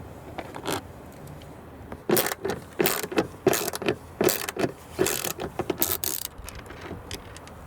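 A ratchet with a 7mm socket turns out the door panel bolts on a Volvo XC, giving a series of quick, close rasping clicks in bursts after a few isolated ticks.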